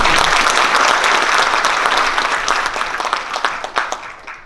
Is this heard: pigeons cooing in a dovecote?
no